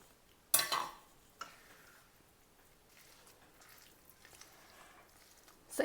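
Grated raw mango being stirred into a pickle mix, with a sharp clatter of a utensil against the bowl near the start, a smaller knock after it, and then soft, quiet scraping and mixing.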